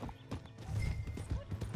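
Horse hooves clip-clop in a rhythmic run in the Red Dead Redemption 2 video game, fairly close and steady, mixed with other game sounds and brief voices.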